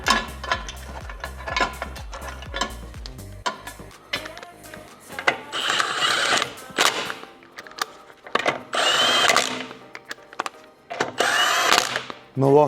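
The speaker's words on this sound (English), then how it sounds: "My locky gun's set to stop when they nip." A cordless impact gun snugs up wheel nuts on a VW CC during a rear wheel bearing job: short whirring, rattling bursts with pauses, close, amid clanks of tools and handling noise.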